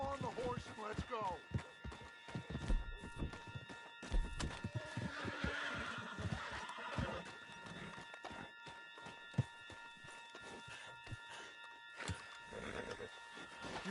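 A horse in the Red Dead Redemption 2 video game whinnies briefly near the start, faint beneath outdoor ambience and scattered hoof and movement noises, with characters speaking around it.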